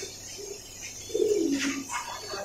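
Pigeons at a pigeon farm in Dhaka give a soft, low coo that swells for about a second, with faint chirps and light rustling in a quiet loft.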